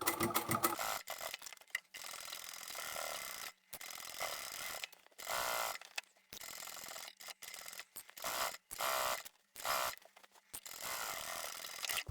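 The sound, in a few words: sewing machine stitching thick fleece fabric pouch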